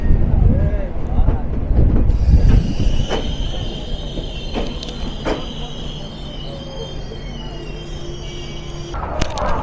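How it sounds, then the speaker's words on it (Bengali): The Ruposhi Bangla Express, an intercity train, pulls out of Jessore railway junction with a low rolling rumble. Sharp metallic wheel squeals and clanks cut in, and a long high screech carries through the middle before the noise thickens again at the end. "যশোর রেলওয়ে জাংশনে 5 মিনিট বিলম্ব নিয়ে যাত্রা শুরু করলো আন্তনগর রূপসী বাংলা এক্সপ্রেস।"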